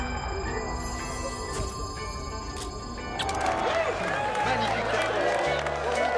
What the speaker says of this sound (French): le vainqueur du jour, on l'applaudit bien fort